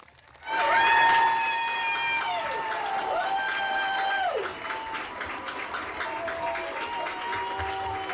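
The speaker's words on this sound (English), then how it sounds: "How about a nice round of applause for that section?" A graduation-ceremony audience at Morris Community High School claps for a section of the Class of 2023: dense, loud applause swells quickly and holds steady for several seconds, with sustained ringing tones sounding over it.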